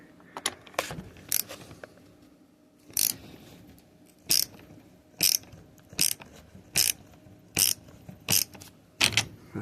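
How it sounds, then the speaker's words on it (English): Ratchet wrench tightening a battery terminal on a Massey Ferguson 65 tractor, a series of sharp, close clicking bursts in an irregular rhythm with short pauses between, loud and alone without talk. "Sometimes you need to use the other ratchet too."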